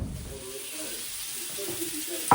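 Breakfast frying in a pan in a home kitchen gives a steady, fairly quiet sizzling hiss that runs through the whole moment, with a small clatter near the end.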